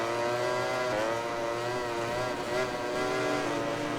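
A MotoGP 21 racing motorbike's engine drones steadily at high revs, with faint popping and crackling from the exhaust blending into the continuous buzzing tone.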